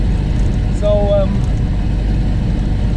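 A Ford Model A with a modified transmission climbs a hill and shifts into third gear. Its steady, close engine rumble runs throughout, with a short whine near the middle.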